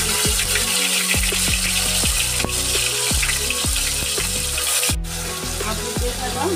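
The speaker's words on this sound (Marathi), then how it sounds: "आता आपलं तेल गरम झालेलं आहे। याच्यात अद्रक लसूण मिरची पेस्ट घालून घेऊ।" Ginger, garlic and chili paste sizzles loudly in hot oil for a street-style veg frankie filling, with a steady frying hiss broken by repeated rhythmic scrapes and clinks of stirring.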